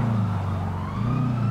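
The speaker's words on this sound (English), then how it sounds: "I can hear a siren" A siren wails faintly in the distance over the low, steady hum of a car engine, in the video game Grand Theft Auto V.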